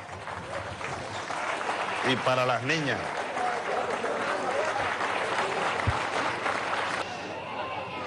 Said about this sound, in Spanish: Pido un aplauso para los niños.